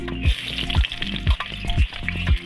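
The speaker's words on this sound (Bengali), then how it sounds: "পেঁয়াজটাকে লাল করে ভাজতে থাকবো।" Onions frying in a pan with black cumin, a loud close sizzle broken by regular thudding scrapes of a spatula roughly every half second, no voices.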